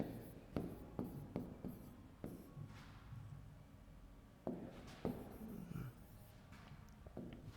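Words are written on a board during a Hindi grammar lesson, heard as faint, uneven bursts of tapping and scratching strokes with short pauses between words, in a quiet room.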